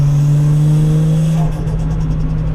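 Toyota JZX car engine with turbo, a steady loud drone holding a constant pitch, shifting in character partway through as a rapid fluttering chatter sets in, with no talking.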